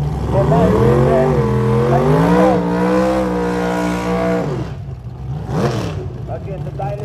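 Drag race cars in a bracket race at a drag strip, loud engines revving and droning with rising and falling pitch for several seconds, then fading, with a commentator talking over them.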